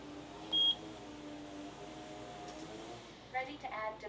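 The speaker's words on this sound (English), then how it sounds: "Press the sync button for 2 seconds until you hear a beep." A Eufy S3 home base gives a single short, clear high-pitched beep after its sync button is pressed, over quiet room hiss, with a faint voice and clatter near the end.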